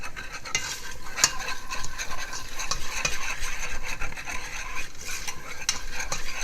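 A flour roux cooks in a pan for a homemade cheese sauce. A utensil stirs and scrapes through it continuously over a steady sizzle at close range, with no talk.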